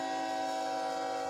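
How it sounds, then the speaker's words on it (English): A BNSF freight train passes close by, a steady, loud rumble of wheels and cars with tonal ringing, continuous and without voices. "with a BNSF coming by."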